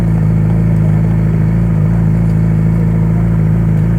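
A motorcycle engine idles close by with a loud, steady low rumble that holds without change throughout, alone and with no talk.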